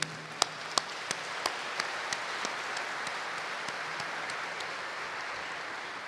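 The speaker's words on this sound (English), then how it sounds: "An overhead clap for both of them, please." A school audience at a morning prayer assembly gives a standing ovation, a soft, distant wash of clapping with a few sharp individual claps standing out early on.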